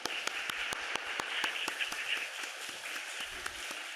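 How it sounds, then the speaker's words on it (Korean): A church congregation claps together, a dense, steady patter of hands filling a large room with no talking over it. "우리 수고한 우리 팀들 위해서 함께 감사의 박수를 좀 보냈으면 좋겠습니다"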